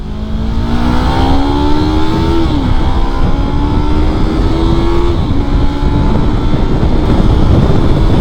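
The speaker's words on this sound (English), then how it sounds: "listen to that downshift." A Yamaha R sport motorcycle engine roars loud and close, its pitch stepping down in distinct drops as it downshifts through gears, with a steady engine drone continuing throughout and no talking.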